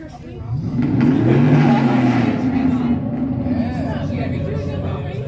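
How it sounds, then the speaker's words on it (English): Car engines rev and roar nearby, rising and falling in pitch, with voices talking over the growl. "I think they're just revving their engines to look impressive."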